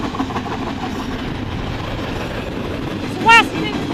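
CN 2838 leads freight train M344 past near Ladysmith with a steady, loud rumble of wheels and engine, and a brief rising tonal squeal or horn-like burst near the end.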